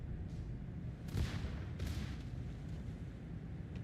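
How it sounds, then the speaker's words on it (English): A big explosion in the naval combat game World of Warships, a muffled, low rumbling boom that swells twice and then fades into a steady background roar, with no talk over it. "Ooh, big explosion."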